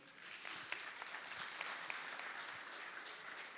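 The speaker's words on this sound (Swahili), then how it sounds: "Tumpigie makofi." Audience applause at a university talk in Nairobi, a steady dense patter of many hands clapping throughout, moderately near with no speech.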